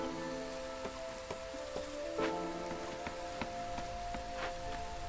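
Steady rain ambience from the video game Against the Storm, a dense hiss of rainfall with scattered drop patters and soft plinks, continuous and fairly quiet, with no voices.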